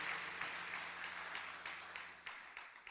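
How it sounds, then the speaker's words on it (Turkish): Audience applause, a steady wash of clapping from a crowd that continues for a few seconds with some sharper claps near the end. "alkış alalım"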